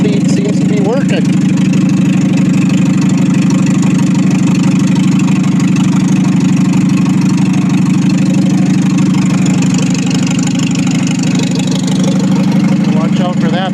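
A Farmall M tractor engine fitted with an M&W 9-speed transmission runs loud and close with a steady low throb, its pitch holding even throughout.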